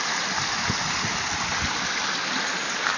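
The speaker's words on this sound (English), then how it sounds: "You can start to hear some of the water here." Steady rushing water from a nearby stream, a continuous broadband wash with no voices.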